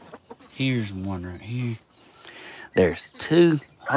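Hens and a rooster cluck in a hen box, bursts of harmonic bird calls close by, mixed with a person talking over and between them.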